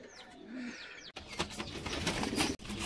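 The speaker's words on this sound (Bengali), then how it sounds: "এটি হচ্ছে আমার ঘরের সব থেকে তেজি পায়রা, একটা দেশি পায়রা।" Pigeons in a loft make a short, low coo up close amid high, sweeping bird calls, followed by a rustling stretch that sounds like shuffling and flapping wings.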